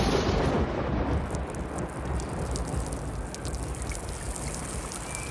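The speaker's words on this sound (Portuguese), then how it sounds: "São Pedro, chuva" Thunderstorm with heavy rain, a dense broadband roar of downpour with a deep rumble at the start, loud and steady throughout with no voices.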